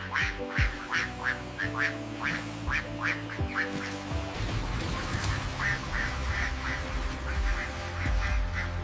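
Many ducks on a duck farm quack repeatedly in overlapping bursts, loud and close, over a low mechanical hum, with no talking.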